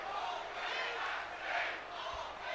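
Arena crowd noise in the WWE 2K22 wrestling game during a RAW show, a dense, steady roar of cheering and chanting that swells and eases, with faint commentary talk mixed beneath.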